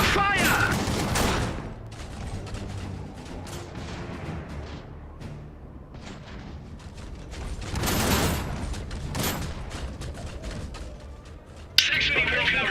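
Gunfire and artillery strike a Saxony walker in the Iron Harvest campaign, loud bursts of impacts and mechanical clanks that swell, ease off, then swell again, with a sharp crack near the end and game voices talking over it.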